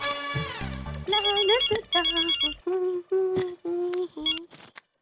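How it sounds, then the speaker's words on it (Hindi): A telephone rings with a loud, close electronic ringtone, a melodic series of repeating beeping notes. "मैंने मेहता साहब को फोन किया है।"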